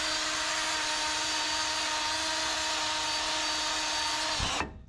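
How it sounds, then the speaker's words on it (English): A power-driven wire wheel spins against a brake hub on a 1996 Ram 2500, giving a steady, even whir for several seconds before spinning down abruptly near the end. "I'll hit this with a wire wheel."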